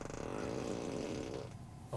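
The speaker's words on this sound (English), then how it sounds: "So let's see, there's ludicrous fart." A ludicrous fart sound effect from a car's emissions mode plays as a long, low, rumbling, sputtering blurt that trails off, followed by a short faint blip, with no talking over it.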